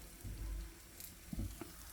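Banana turon frying in hot oil, soft crackling sizzle with a few louder pops and stirring clatter, close and fairly quiet, no talk.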